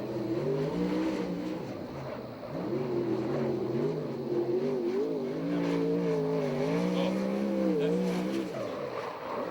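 A USAC/CRA sprint race car with a TCR chassis and Chevy engine drones at Ventura, California, its engine rising and falling steadily as it laps the track for about ten seconds, loud and continuous with crowd noise beneath.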